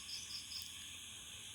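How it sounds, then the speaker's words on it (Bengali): Crickets chirp at night beside a pond, a steady high insect trill with soft pulsing bursts, faint and continuous over a quiet low background hum. "ঝিঝি পোকার ডাক"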